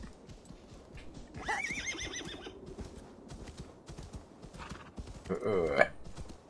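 Two loud horse whinnies ring out in Assassin's Creed Valhalla, one early and one near the end, over faint clip-clopping hooves and low background noise.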